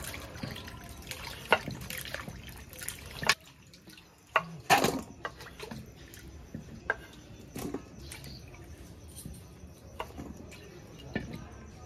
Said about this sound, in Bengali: ধোয়া হয়ে গেছে, এবার আলুটা ধুয়ে নেব।